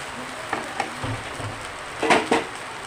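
Katla fish heads fry in a pan while being stirred, a faint crackling sizzle broken by a few soft scraping knocks of the spoon.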